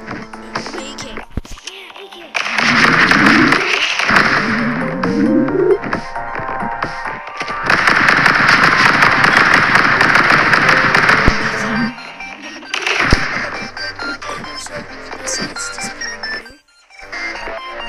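An AK rifle fires in the video game Stick Fight, loud sustained bursts of digital gunfire with crackling hits, over game music and a voice talking across much of the span.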